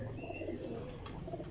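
Pigeon cooing, soft and steady, from a large young parwazi flying pigeon, roughly two to two and a half years old, with faint background noise and no talk.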